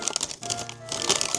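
Crinkling wrapper paper being pulled open around a Burger King fish burger, a close, continuous rustle with a brief lull midway before louder crumpling resumes.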